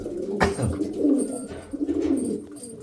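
Pigeons, a newly paired male and female, coo close by in soft, low, repeated throaty calls with brief pauses between them.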